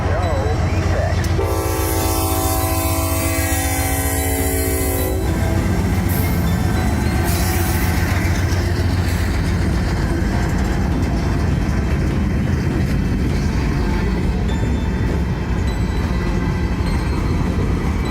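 A Norfolk Southern freight train with a Tier 4 lead locomotive roars past close by, its horn sounding in long, loud blasts early on, followed by sustained rumbling and clattering of railcars.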